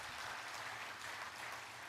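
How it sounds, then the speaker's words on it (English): A conference audience at a PSA Congress panel discussion applauds the panel, a brief, faint patter of steady clapping heard from a distance. "I think they deserve another round of applause."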